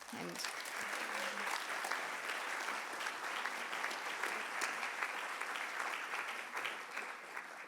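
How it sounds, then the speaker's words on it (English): A conference audience applauding a keynote speaker at a peace conference, sustained even clapping from a large crowd throughout, fairly distant and faint, with a voice briefly heard at the start. "Please give her a big round of applause."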